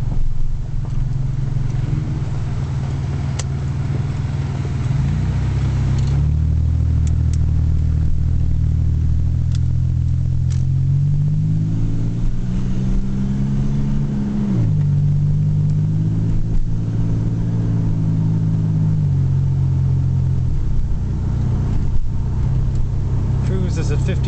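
Inside a 1999 Buick LeSabre Custom sedan cruising at 100 km/h in overdrive on a bumpy road, a steady low engine and road hum drones on, its pitch drifting slightly up and down.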